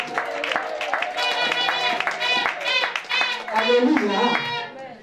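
Church congregation clapping along in praise, with raised voices calling and singing out over rhythmic, fairly close handclaps that continue through the whole stretch.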